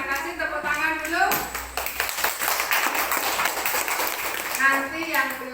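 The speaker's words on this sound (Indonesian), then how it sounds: "Oke, terima kasih, tepuk tangan dulu." Children clap together in a classroom, a lively stretch of rapid, overlapping hand claps, with voices speaking before and after it.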